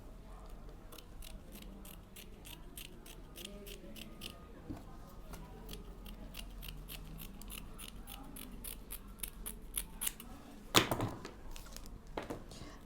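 Scissors snip through abaca fabric in a quick, regular series of sharp, quiet cuts close by, with a louder crunch near the end.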